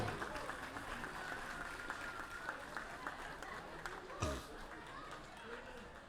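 Moderate audience applause at a Tamu Lhosar celebration gathering welcoming life members and former presidents, steady clapping mixed with crowd chatter, with a sharp thump partway through.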